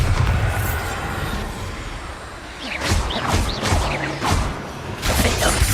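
A Bombarda blasting spell bursts in the video game Hogwarts Legacy, with rushing magical whooshes and a series of crackling, booming impacts rising after a quieter start, loud and layered with game effects.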